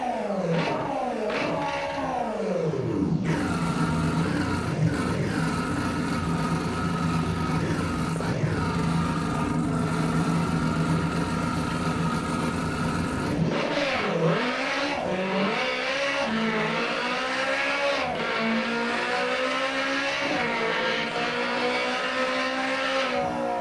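Race car launching on a race track, with a loud engine revving and climbing through gears in rising sweeps, a brief lull, then another hard pull upward through the gears close by.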